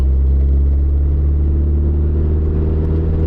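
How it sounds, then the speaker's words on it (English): A 1995 Geo Prism's motor drones steadily and loudly while driving, a deep, constant rumble with strong low vibration and no gaps or speech. "It's got a lot of vibration coming from the motor"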